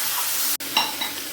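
A vegetable curry sizzles steadily in a pan after a little water goes in, with a brief cut in the sound and a few soft stirring scrapes afterward.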